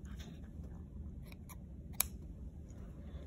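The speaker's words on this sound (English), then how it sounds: "Cut off the tails." Scissors snipping off the tails of a double knot, a few quiet crisp cuts with one sharper snip near the middle, close and faint over low background hiss, no talking.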